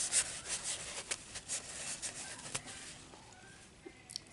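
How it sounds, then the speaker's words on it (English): A napkin soaked in rubbing alcohol wiped across tacky gel nails, soft quick rubbing and scratchy swipes up close, fading into near quiet toward the end. "I'm just going to wipe off the tackiness off each nail"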